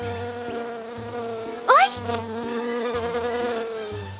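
An animated cartoon bee buzzes in a steady, close drone with a pulsing, wavering pitch, broken midway by a short startled vocal cry.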